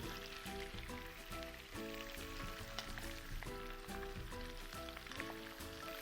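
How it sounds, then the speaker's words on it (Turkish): Steady, dense sizzling of chicken frying in hot oil in a pot, continuous crackle and hiss throughout with no talking. "tavuklarımı kızartmaya başlıyorum"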